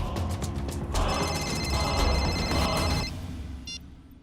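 Telephone rings in a room of a Hindi-language animated crime show, a bright repeating electronic ring heard for about two seconds over background music and ambience, with a brief chirp near the end.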